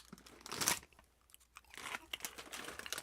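Crunchy honey barbecue corn chips chewed close up, a loud burst of crunching followed by a brief lull and then a run of smaller, irregular bites and crackles.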